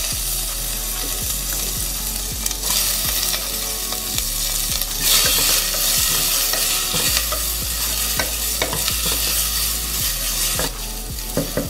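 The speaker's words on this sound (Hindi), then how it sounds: "जैसे ही मेरा जीरा भुन जाएगा इसके अंदर मैं डाल रही हूँ प्याज।" Chopped onion fries in oil with roasted cumin seeds, a steady close sizzle broken by frequent sharp scrapes and knocks of a spoon stirring against the pan, with no talking.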